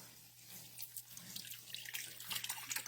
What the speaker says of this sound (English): now I'm going to add the rest of the broth in